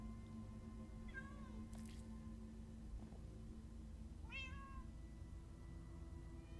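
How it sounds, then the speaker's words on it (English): Cats meowing in the video game Minecraft: Story Mode, two short rising-falling meows several seconds apart, faint over a constant background hum. "Ah, many cats. So many cats."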